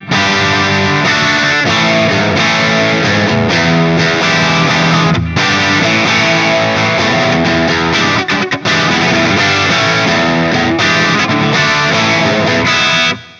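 A distorted electric guitar through a Headrush amp modeler with medium plate reverb plays continuous chords and riffs, loud and full, with a spacious reverb tail smoothing the sound.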